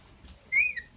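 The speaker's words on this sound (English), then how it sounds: "He's whistling." A pet parrot gives a single short, clear rising whistle close by in a bird room, with a quieter second note just after it over faint room noise.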